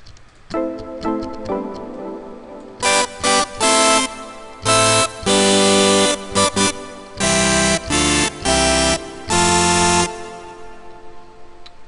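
A bright, buzzy mid sound made on the Massive software synthesizer plays a rhythmic pattern of loud, punchy chords in short and sustained bursts after a quieter intro.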